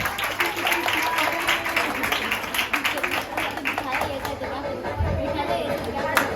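Audience at a Jain society stage program in Kalyan West applauding the play's cast, a steady wash of clapping and crowd chatter that holds at an even level throughout, with voices mixed in.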